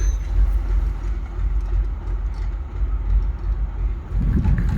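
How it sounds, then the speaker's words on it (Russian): A diesel locomotive arrives at Tynda station on the Baikal-Amur Mainline, a heavy low rumble idling and rolling nearby, steady and loud, with a swelling thrum near the end. "Вон тепловоз подъезжает."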